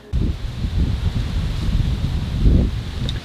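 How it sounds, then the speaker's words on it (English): Wind gusts outdoors in a Hamakua garden, buffeting the microphone in a continuous low rumble that swells and eases, with a stronger gust near the end and no talk. "I'm not sure about this wind."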